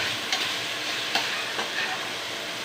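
Saba banana being mashed in a pan with patola, a dense close frying hiss with a few soft scraping knocks of the utensil, no talk.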